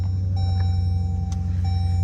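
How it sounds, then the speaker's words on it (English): Jeep SRT V8 engine idling steadily after being started with the red push button, a loud continuous low rumble with faint electronic chimes ringing over it. "Press our red start button"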